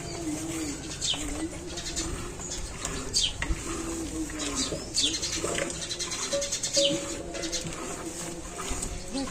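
Sparrows chirp in scattered short bursts outdoors, with soft cooing and low background murmur running underneath throughout.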